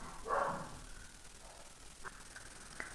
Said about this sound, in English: that is my dog and my daughter